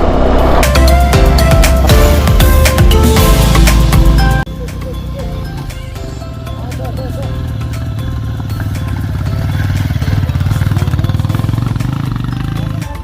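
Many motorcycles on a hill road near Bethanchowk, Kavre, loud close engines revving and droning, then a steadier rumble of passing bikes, with people talking now and then.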